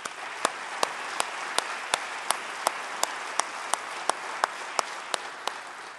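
Audience applause at the San Bernardino County State of Education address congratulating top schools, a steady rolling clap from a hall crowd with a few sharper individual claps standing out at even intervals.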